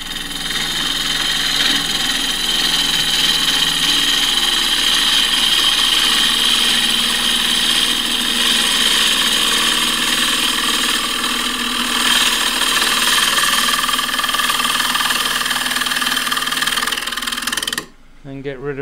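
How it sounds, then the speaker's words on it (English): An ash bowl spins on a wood lathe while a 1/2 inch spindle gouge cuts it, producing a steady loud whirring motor drone with gritty cutting noise throughout, stopping abruptly near the end. "you always stand out of line when you turn the lathe on. Right, 1/2 inch spindle gouge."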